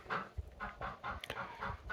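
Chickens at a homestead chicken house clucking in a soft, steady series of short rhythmic calls, fairly faint and close, with no talking.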